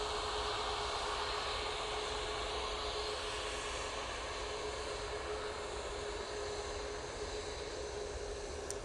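Steady, distant jet roar from a Tui airliner departing Manchester for Larnaca, faint and continuous with a faint whining tone running through it, and no talking.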